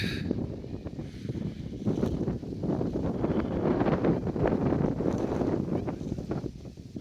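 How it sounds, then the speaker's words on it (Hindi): Strong wind buffets the microphone at Nur Junction railway station, a continuous loud rumbling roar that swells and eases throughout. "हवा यहाँ पे काफ़ी चल रही है"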